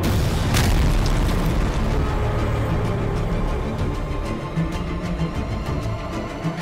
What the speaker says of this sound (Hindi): जब अर्जुन की तोप ने गोले उगलने शुरू किए तो पल भर में दुश्मन की ताकत हवा हो